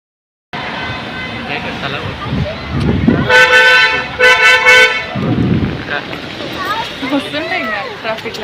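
Busy street traffic in which a car horn honks loudly in several sustained blasts and short toots, with engine rumble throughout and people talking in the foreground.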